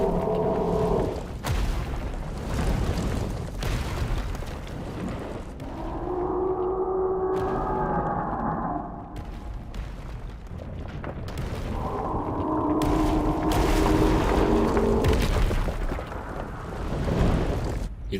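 Death Mountain erupts in Zelda: Breath of the Wild with deep rumbling booms and a roaring wind-like rush, rising and falling over time and broken by a few bursts of tonal game music.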